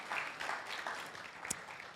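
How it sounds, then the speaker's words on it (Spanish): A church congregation applauds during a bilingual sermon, a dense wash of many hands clapping steadily at moderate distance for the whole two seconds, with no voices standing out. "Give a big applause to the Lord."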